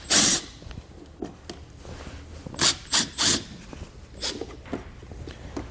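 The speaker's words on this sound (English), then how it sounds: "The 2 screws you'll remove with a T20 Torx socket." Tail light screws on a towed vehicle are backed out with a T20 Torx socket, giving close scraping, ratcheting and rubbing bursts in an irregular rhythm, some loud and some faint.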